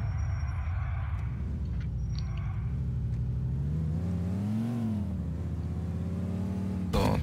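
A Mercedes C63 AMG in the video game GTA IV drives with a steady engine drone, its pitch rising and falling as it revs and shifts, ending in an abrupt louder burst.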